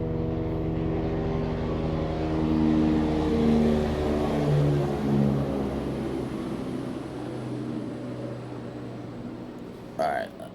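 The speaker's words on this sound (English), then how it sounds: "hold on, helicopter" A helicopter flies overhead, a steady low rotor drone with layered harmonic hum that swells in the middle and fades, heard beneath a person talking.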